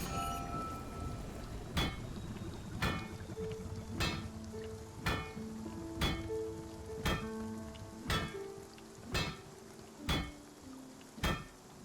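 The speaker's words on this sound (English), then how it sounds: "Oh, I love these storm sounds," Storm ambience from the video game Spiritfarer: a soft continuous rain hiss with regular knocking thuds about once a second and gentle tonal chimes drifting underneath.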